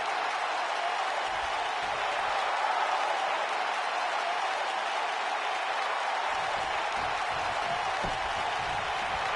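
A wrestling arena crowd at a WWE Mae Young Classic match cheers and applauds in a dense, steady roar that holds for several seconds with no break.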